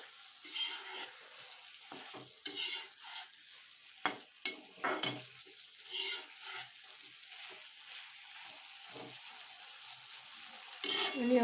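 Red pumpkin bhaji being stirred and mixed in a pan, with a series of scraping, clattering stirs and a soft sizzle underneath, close and moderately quiet.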